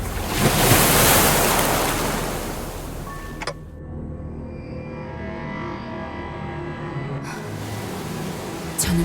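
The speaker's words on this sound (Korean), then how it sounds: "당신에겐 들리는 거죠? 그날의 파도 소리가." Ocean surf in the video game Limbus Company washes in with a loud roaring swell, eases into softer lapping water with a faint tonal hum, then returns as a rising rush near the end.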